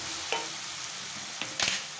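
Curry leaves sizzle in hot oil in a pan as they are stirred, a steady soft frying hiss broken by a few brief scraping clatters from the spoon.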